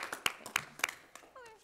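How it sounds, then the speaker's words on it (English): A few people clap at a school board work session, sparse uneven claps near the mic mixed with cheering and voices over it. "give them a round of applause"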